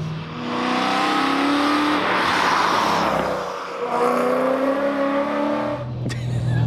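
Supercharged 680 bhp manual BMW E92 M3 engine lifting off the throttle, a loud sustained whine and rumble that swells, dips and rises again, heard close with no talk.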